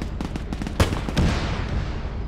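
Artillery bombardment in ArmA 3 batters an objective: rapid heavy booms and crackling blasts fire in quick succession, then fade into a rolling, reverberant rumble.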